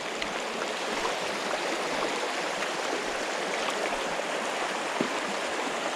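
A small river runs into a larger one, making a steady, broadband rush of flowing water that stays close and continuous throughout, with no voices over it.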